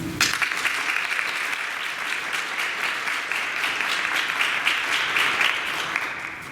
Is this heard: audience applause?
yes